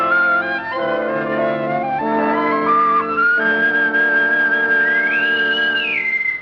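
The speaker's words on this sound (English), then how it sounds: "A bosun's whistle. They're piping us aboard." A bosun's whistle pipes men aboard a ship with a loud, shrill, sustained call that shifts between held notes and ends in a rising and falling warble.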